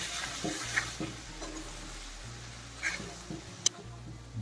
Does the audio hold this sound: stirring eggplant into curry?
yes